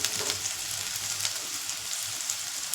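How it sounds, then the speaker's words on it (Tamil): Onions frying in a pan give a steady, dense sizzle that stays even and close throughout, with no talking over it. "வெங்காயம் நல்லா வெந்துடணும்."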